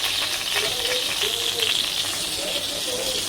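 Cumin seeds and curry leaves sizzle in hot oil for vada pav tempering, a steady bright frying hiss held close and fairly loud throughout, with a faint voice now and then beneath it.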